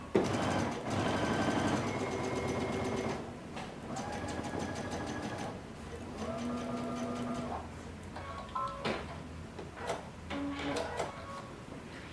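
A sewing machine tacks down the seam allowance of a pair of pants, running in several close, rhythmic bursts of rapid stitching with short pauses and shifting pitch between runs.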